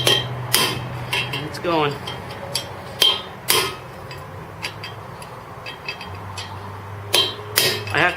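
Bearing races are hammered into a 1971 Camaro SS 8.5 differential with sharp metallic strikes, about a dozen solid smacks at irregular spacing, close and ringing, with a brief spoken remark among them.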